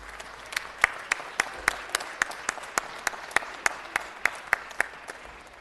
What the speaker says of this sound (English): Could we give Joanne a round of applause?